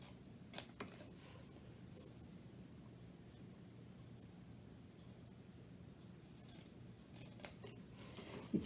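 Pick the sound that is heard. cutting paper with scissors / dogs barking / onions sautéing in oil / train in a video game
cutting paper with scissors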